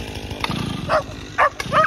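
A chainsaw runs during tree removal in Croatia, a steady buzzing engine drone heard at moderate distance, with a few short sharp barks cutting across it.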